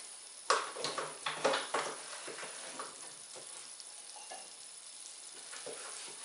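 Flour roasts in hot oil in a pot for tahini halva, sizzling and crackling with a few sharp bursts early on settling into a steady, quieter hiss.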